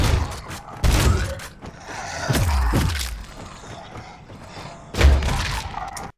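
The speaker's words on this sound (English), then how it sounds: "So we've got all our shotgun sounds there for Fire A and for Fire B." Redesigned shotgun firing sounds from Doom: a few heavy, booming blasts with thudding low ends and mechanical clatter, spaced irregularly and fairly close, alone without any voices.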